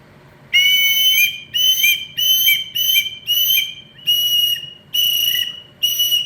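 A handmade two-chamber wooden eagle whistle gives a piercing high whistle in eight short bursts with brief gaps, loud and close, each blast steady with a slight waver.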